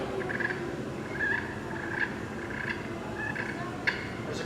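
A wild turkey's soft purr call, a low rolling trill repeated several times at close range, with faint brighter notes recurring every half second or so over a quiet outdoor background.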